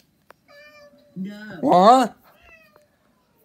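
A house cat meows loudly and insistently at close range, one long rising-and-falling cry in the middle with softer shorter meows around it, while a person speaks briefly under and between the calls.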